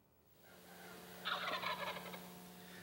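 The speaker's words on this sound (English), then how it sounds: "They'll gobble from the roost" A wild turkey gobbles once from its roost in early spring, a rapid rattling call over a faint steady hum, distant and quiet.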